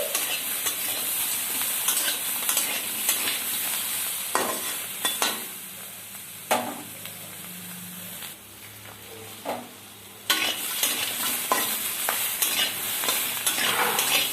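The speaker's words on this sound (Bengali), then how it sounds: "ভালো করে আমি সমস্ত সবজি ভেজে নিচ্ছি।" Mixed vegetables sizzle in hot oil in a home kitchen pan while a spatula repeatedly scrapes and stirs them, a continuous frying hiss broken by brief pauses and clanks, with no talking.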